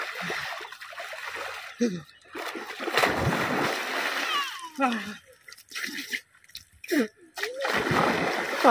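Water is splashed onto someone outdoors in a village, in several loud, sloshing bursts scattered across the stretch, mixed with excited voices and laughter between the splashes.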